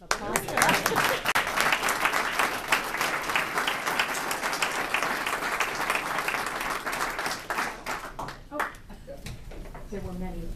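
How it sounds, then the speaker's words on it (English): Applause from the audience at a defense security cooperation launch event comes in sharp, rapid claps that build quickly and then thin out near the end. Voices can be heard alongside the clapping. "I think there should be a round of applause."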